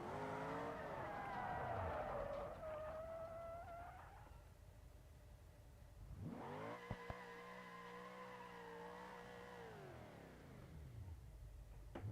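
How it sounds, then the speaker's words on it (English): A small car in the BeamNG.drive driving game revs hard and swoops through rising and falling engine pitches, with tyre squeal and a couple of sharp knocks midway, loud and continuous with no talk. "This is a brilliant little car, guys."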